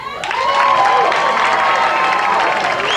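A premiere audience applauds and cheers for the cast, with loud sustained clapping, whoops and excited shouting from a close, crowded room.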